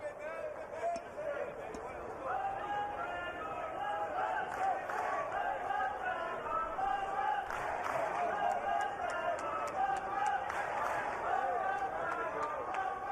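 Crowd noise from fans filing into Hauser Field on a warm Saturday afternoon in early March for a Notre Dame vs. Florida State college baseball game, a steady distant murmur under a commentator's voice.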